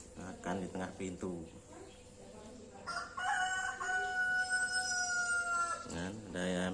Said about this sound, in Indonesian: ada ayam datangan